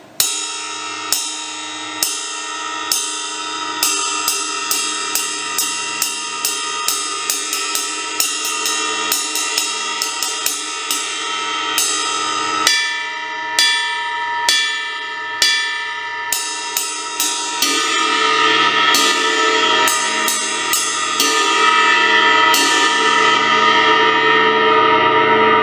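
A Sabian HH Powerbell 20-inch ride cymbal is struck steadily with a stick, close and bright, with cutting bell pings over a sustained wash that builds louder near the end.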